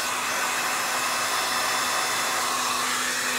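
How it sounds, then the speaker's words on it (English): A handheld blow dryer blasts steadily at close range onto an art transfer surface, a loud, constant whooshing airflow with a steady motor whine throughout and no talking. "So I'm going to hit this with my blow dryer."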